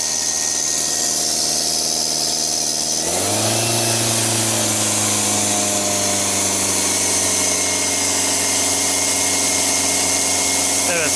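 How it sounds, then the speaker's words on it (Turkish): A SsangYong Kyron engine during an EGR cleaning with Lucas oil EGR cleaner idles with a low hum, then steps up into a higher, steady drone held at high idle. "şu anda yüksek rölantide şeyi sıktığımız için devir yüksekte"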